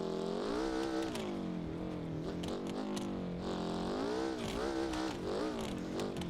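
An off-road vehicle in BeamNG.Drive revs hard and steadily, its engine pitch rising and falling in repeated swoops as it accelerates over jumps, loud and close throughout with no talking.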